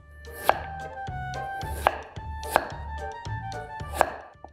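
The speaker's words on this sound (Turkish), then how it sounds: "Şimdi yine buradan ince ince kibritler keseceğiz." A knife cuts a potato into thin julienne matchsticks on a board, four sharp chops landing at a steady, unhurried pace, close and clear with no talking.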